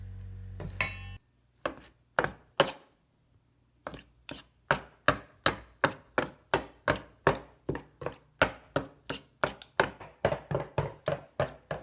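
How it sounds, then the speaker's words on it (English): Rapid chops of two knives cutting through pie dough strike a cutting board in a steady rhythm, close and crisp, after a short low hum at the start. "You just keep chopping and chopping and chopping."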